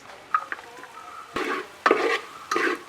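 Pieces of roasted coconut go into a hot pan for a pork fry, producing bursts of sizzling and stirring scrapes that rise and fall in several short surges over a soft background hiss.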